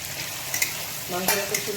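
Onions frying in a pan for a home-style chicken masala, with a steady broadband sizzle and a few brief stirring clinks and scrapes partway through, close and continuous with no talking.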